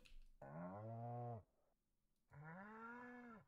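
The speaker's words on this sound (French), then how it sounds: "je suis pas allée voir ma vache." A cow in the video game Stardew Valley moos twice, each call a clear, drawn-out low bellow with a short silence between them.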